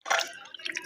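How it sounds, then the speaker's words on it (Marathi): Water pours into a pan of salted chicken pieces during home cooking, a short close splash and trickle that fades after a brief burst, with no talk over it. "यात आपण नमक टाकून घेतलेलं चिकनमध्ये आणि त्यात पाणी टाकूयात"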